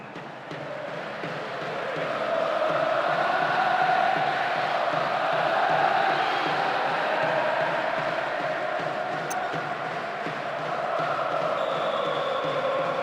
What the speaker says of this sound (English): The crowd expressing frustration in no uncertain terms, clearly unhappy as their team give away that cheap goal.